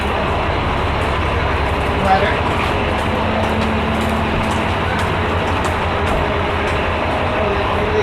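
A train rumbles steadily across the street in Little Chinatown, a continuous low roar mixed with city traffic noise, while people talk nearby.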